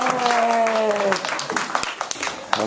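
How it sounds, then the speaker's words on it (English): Scattered applause from a classroom audience at a UCLA persuasive speech session, brief and moderately loud, mixed with overlapping voices and chatter. "Give yourself a round of applause."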